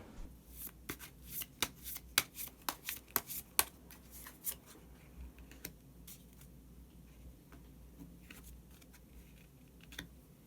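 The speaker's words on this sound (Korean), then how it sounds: "그러면 마지막으로 히든 카드 한 장 더 뽑아보도록 하겠습니다" Tarot cards are shuffled and drawn close up: a quick run of crisp riffling slaps and taps, then a few sparse card clicks in near silence.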